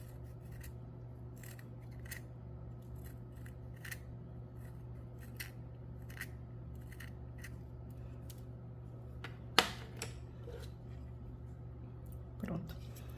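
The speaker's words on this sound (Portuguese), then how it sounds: "agora eu vou passar pra estilete, como eu fiz com os outros" A graphite pencil is pared with a utility knife during a sharpener unboxing, giving faint, quiet scraping and small clicks with a couple of sharper snaps, under a low steady hum.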